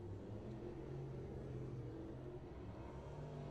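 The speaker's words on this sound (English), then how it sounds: "Listen to those motors." Several 602 Sportsman crate late model race car engines idling and warming up before laps at Southern Raceway, a steady low rumble with some revving, close and continuous throughout.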